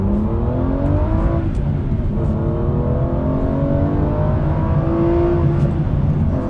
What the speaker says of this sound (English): The sound of a V12.